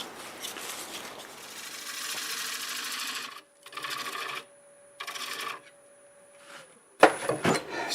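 A wood lathe turns an olive wood bowl while a tool flattens its face: intermittent scraping cutting bursts over a faint motor hum, with short pauses and a sharp clatter near the end.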